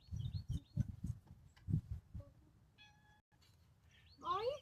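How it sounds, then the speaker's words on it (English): A stray cat being fed outdoors gives a short rising and falling meow near the end, following a stretch of speech and soft bumps, with faint bird chirps in the background. "My daughter's outside feeding the stray cat we take care of."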